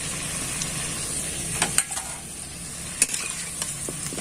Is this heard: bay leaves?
yes